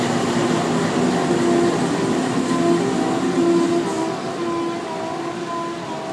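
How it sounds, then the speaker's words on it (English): NR27 diesel locomotive pulling away with the Indian Pacific at a station, a steady loud engine drone with a sustained tonal hum that eases slightly toward the end. "NR27 was departing on a weird angle"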